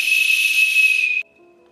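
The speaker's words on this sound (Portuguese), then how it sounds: "Através de um apito, eu sopro, vai-se ouvir um sinal sonoro" A speaking-tube whistle at the Cabo da Roca lighthouse, blown to call the keeper below, gives a loud, steady, shrill airy tone for about a second before it cuts off abruptly.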